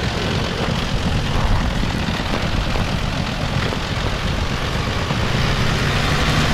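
An off-road vehicle's engine rumbles steadily and loudly with a broad, rough roar and no pauses.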